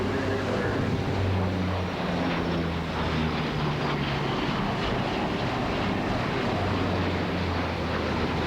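C-130 aircraft engines drone in a loud, steady propeller roar that fills the whole stretch, with a constant low throb and no letup.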